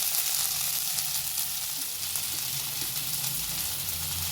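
Fish sizzles steadily in oil in a pan, a close, even crackle and hiss that runs unbroken and alone.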